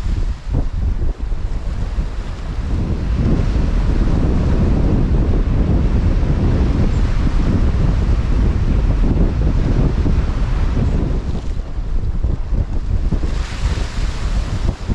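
A strong southwesterly wind buffeting the microphone on a UK sea-fishing shore, loud continuous roaring gusts over rumbling surf and swell, close and unbroken, no voices.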